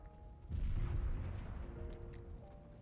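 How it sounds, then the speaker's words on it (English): A muffled, distant explosion in the video game Nikke, a deep rumbling boom that swells suddenly, then fades slowly over a faint musical backdrop. "A loud explosion echoes in the distance"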